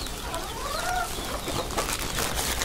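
Farmyard chickens and a rooster cluck and call nearby, with short rising and falling vocalizations over soft ambient background noise.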